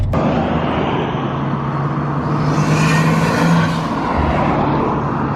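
A JDM Nissan Stagea driving along gently, its engine humming steadily with a low drone and a rising whir as it pulls, heard from inside the cabin with no talking.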